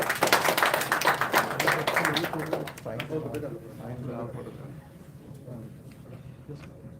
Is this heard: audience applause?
yes